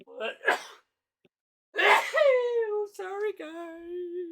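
A single loud sneeze bursts out near the start, then after a short silence a person speaks briefly in an apologetic tone.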